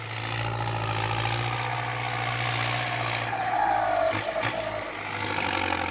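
A tractor engine drones while plowing a rice field, a steady, close mechanical rumble with a low hum that holds even throughout, briefly swelling and easing without any talk.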